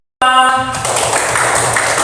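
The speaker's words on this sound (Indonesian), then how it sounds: "tepuk tangan untuk kelompok 2" A classroom bursts into applause for a presenting student group, a sudden burst of many hands clapping that stays dense and loud, following a brief tonal sound at the start.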